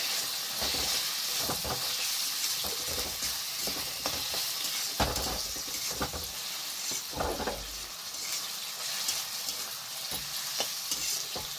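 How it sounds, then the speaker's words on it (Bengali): Chopped tomato being stirred into browned onions frying in a pan: a steady sizzling hiss under repeated scraping strokes of a spoon, close and continuous, with no voices. "এবার আমি টমেটোটা দিয়ে দিচ্ছি, টমেটোটা মিক্স করে নিচ্ছি ভালো করে।"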